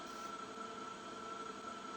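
A train arriving at a station in the video game Factorio, a steady, even rumble with a sustained tonal hum, moderately loud and unbroken throughout.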